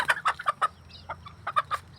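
Crossbred laying hens, a cross of laying stock with Bangkok fowl, clucking in a run of short, close, fairly loud calls with brief pauses between them. No one speaks.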